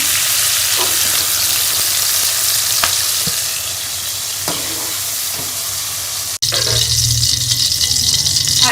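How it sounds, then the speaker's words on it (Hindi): Chicken pieces frying in ghee in a pan give a loud, steady sizzle with occasional stirring clicks, briefly cut off before a denser, louder crackle resumes. "इसी घी के अंदर हम ये चिकन डाल देंगे और इसे भी हम भूनेंगे अच्छी तरह से"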